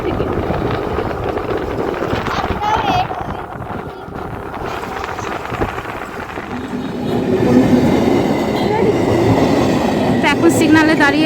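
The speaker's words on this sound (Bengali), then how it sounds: "এখন সিগনালে দাঁড়িয়ে আছি, ট্রেন যাচ্ছে।" Train rumbling past a level crossing with a continuous heavy roar and clatter that swells louder toward the end, under wind noise and faint background voices.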